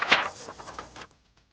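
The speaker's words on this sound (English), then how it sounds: "This is the sound of a page turning." A short, bright chime-like signal rings out and fades within about a second, followed by near silence.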